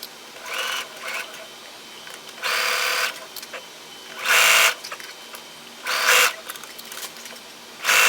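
Sewing machine stitching the brim onto a cloche hat, running in four distinct bursts of about half a second to a second each, separated by short quiet pauses, close and fairly loud with no talking.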